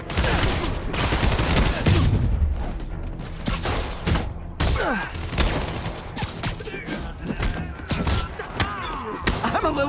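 Dense, chaotic gunfire from Spider-Man on PS4 rattles on continuously with heavy thuds and crashes, loud and close throughout, mixed with game action noise.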